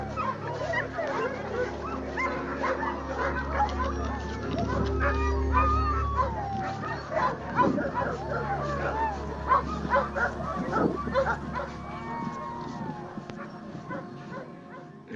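Sled dogs bark and yip constantly at the World Championship Dog Races in winter in northern Manitoba, a dense chorus of many dogs near and far with people talking underneath.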